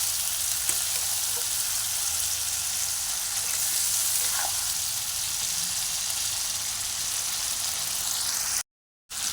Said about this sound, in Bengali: মশলাটা আমার ভাজা হয়ে যাচ্ছে